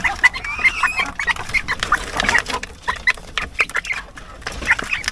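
Aseel chicks and chickens on a farm, with a busy run of short, high chirps and clucks repeating irregularly at close range against a light background of other bird calls.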